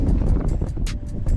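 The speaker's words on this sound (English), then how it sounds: "Sorry about the wind." Wind buffets the microphone outdoors on a fishing bank, a close, rumbling low roar with uneven gusty pulses throughout the short moment, with no voices.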